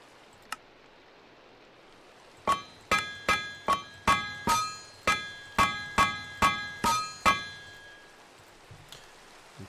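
Iron being hammered on an anvil to weld pieces together in TerraFirmaCraft, a single early tap followed by a steady run of about eleven loud, ringing metallic strikes, each with a clear bell-like tone and short decay, no talk.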